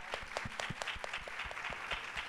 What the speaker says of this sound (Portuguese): uma salva de palmas para Carol